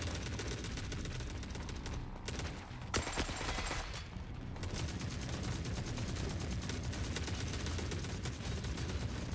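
Dense, sustained gunfire in The Forever Winter, a steady wall of shots and bursts that barely lets up, with a brief louder flurry near the middle; no talk over it.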